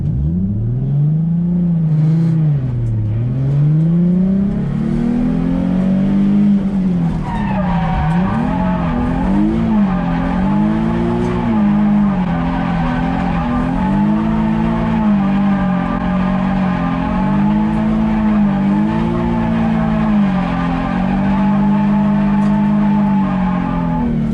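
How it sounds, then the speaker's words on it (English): A car drifts around a barrel marker on a driving course, its engine droning and revving continuously with tyre squeal and skidding layered over it; loud and close throughout, pitch rising and falling as the car holds its arc. "It's just a clutch, turn, e-brake, and then we're going to maintain that 30 foot distance around the marker."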